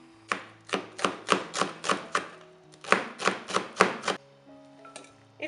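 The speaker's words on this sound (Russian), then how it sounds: "Нарезаем как можно мельче." A knife finely chops dill and green onions on a board in a steady run of about a dozen crisp, close, evenly spaced strokes, with a short pause midway and no talking.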